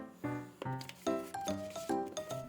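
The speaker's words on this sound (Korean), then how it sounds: "코팅한 도안을 모두 오려주세요" Scissors snipping through laminated, coated paper craft cutouts, a handful of close crisp cuts with short pauses between them, played quietly and with no one talking.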